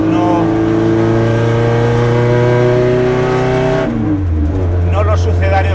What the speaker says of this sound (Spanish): El sonido que tenemos es el de un auténtico